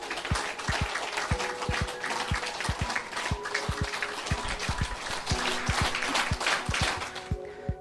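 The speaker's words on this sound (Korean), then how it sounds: "강연장에 오신 분들께 박수를 치시면서 강연장에 있는 다른 분의 박수의 박자에 맞춰서 본인의 박수를 조율해 보라는 그런 부탁을 드리는 실험" A lecture audience clapping together, many hands at first scattered and then pulling into a shared steady beat, loud and continuous throughout.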